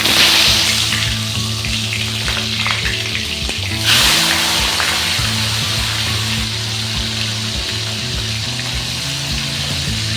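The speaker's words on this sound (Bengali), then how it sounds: "গ্যাসটাকে মিডিয়ামে রেখে মাছের মাথাগুলোকে সুন্দর করে ভেজে নেব" Hilsa fish heads fry in hot oil in a wok over a medium gas flame, giving a loud, constant sizzle with occasional stirring scrapes.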